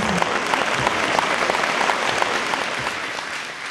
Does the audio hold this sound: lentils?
no